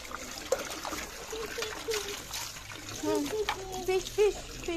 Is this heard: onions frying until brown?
no